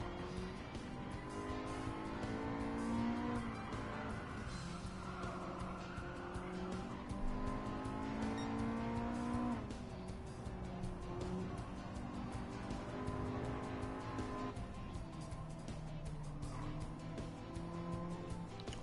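Race cars speed around a track in the Gran Turismo 7 video game, with continuous engine drone rising and falling through gear changes and occasional tyre squeal, loud and unbroken with no talking.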